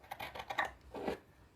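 Scissors trim fabric for a book cover with a rapid run of crisp close snips, a brief pause, then one last cut.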